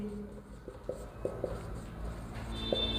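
A pen scratches across paper in short, quiet strokes with soft taps between them, close and faint in a calm room, with no talking.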